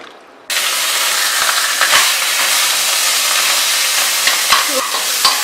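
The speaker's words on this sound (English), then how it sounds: "We'll cover it and let it cook for the time being." Goalondo chicken curry cooking in a covered pot gives a loud, steady steamy hiss after a quiet start, with a few faint clicks and knocks scattered through the sizzle.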